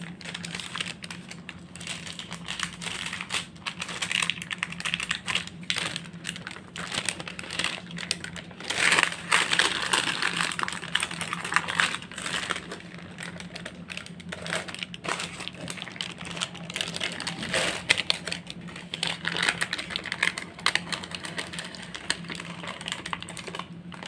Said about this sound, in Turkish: Bakın ne kadar rahat kağıttan sökülüp geldiler.